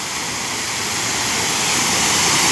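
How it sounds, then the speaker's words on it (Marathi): Big scenic waterfall on a flooded river, its continuous dense roar of falling water steady and loud throughout, growing slightly stronger toward the end, with nobody speaking. "समोरचा धबधबा एकदम मनमोहक असा हा धबधबा"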